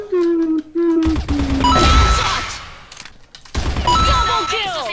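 Bursts of CrossFire video game gunfire and mechanical effects over a tonal game sound, with a voice speaking briefly at the start.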